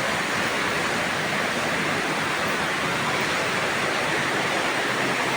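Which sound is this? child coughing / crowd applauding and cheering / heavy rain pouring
heavy rain pouring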